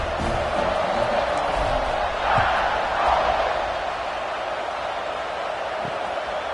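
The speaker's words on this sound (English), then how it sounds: "this crowd is buzzing after that last score" A stadium crowd in a college football video game buzzing after a score: a continuous, loud, dense roar with slight swells and no clear voices above it.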